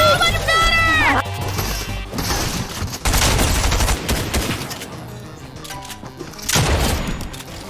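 Rapid gunfire bursts and shotgun blasts from a Fortnite match, including a Striker pump shotgun, crack loudly and densely across the clip, mixed with crashes and impacts, while a player's voice talks over the action.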